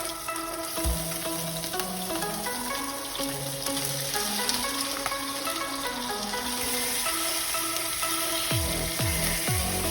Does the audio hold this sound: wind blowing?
no